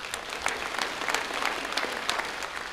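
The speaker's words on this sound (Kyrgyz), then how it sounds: "Кол чабуулар болсун." An audience at a concert claps steadily, a dense, moderately loud patter of many hands with no voices over it.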